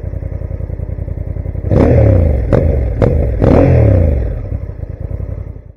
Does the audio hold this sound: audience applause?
no